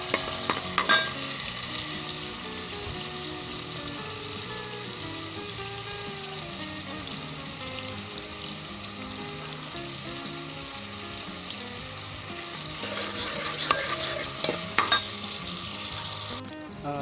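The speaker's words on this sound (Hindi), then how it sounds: "और इसे 1 मिनट के लिए हम मीडियम आंच के ऊपर ब्राउन कर लेंगे" Garlic, onion and ginger frying in a pan over medium heat, a steady loud sizzle with stirring and spoon scrapes throughout and no talking.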